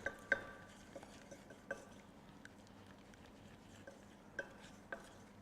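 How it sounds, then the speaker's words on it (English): Flour being stirred into a roux in a pan, with soft scraping strokes and a few light clinks of the spoon against the pan, quiet and close with no talking. "Stir it in."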